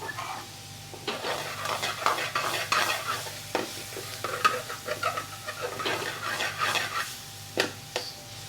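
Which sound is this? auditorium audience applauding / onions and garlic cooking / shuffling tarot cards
onions and garlic cooking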